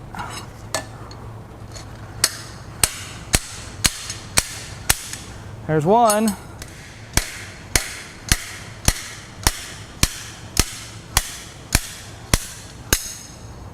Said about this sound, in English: Use a slide hammer with this thing.